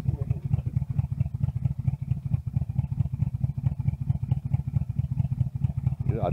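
A SsangYong Actyon Sports engine idling roughly with an uneven beat: a steady, close, low rhythmic thumping that pulses irregularly throughout, with no voices over it.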